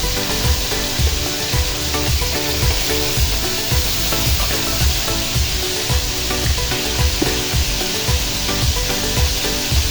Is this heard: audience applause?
no